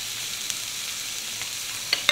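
Onions frying in oil in a pan, a steady broadband sizzle throughout, with a couple of faint clicks near the end and no talk.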